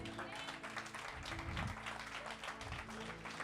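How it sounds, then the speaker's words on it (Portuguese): A church congregation claps together in sustained applause during a sermon, a dense continuous patter of many hands with voices murmuring and speaking underneath. "Você pode aplaudir o Senhor por essa palavra?"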